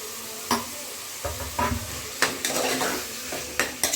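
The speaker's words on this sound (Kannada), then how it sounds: "ಇದೊಂದು 2 ನಿಮಿಷ ಫ್ರೈ ಆಗಿದೆ" Chopped country tomatoes frying in a pan for hotel-style pulao, a soft steady sizzle broken by several sharp spatula scrapes and clinks against the pan.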